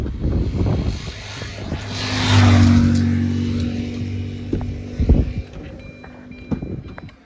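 A new car driving along, its engine and road rumble rising to a louder swell midway before easing, with wind noise buffeting the microphone and a few knocks near the end.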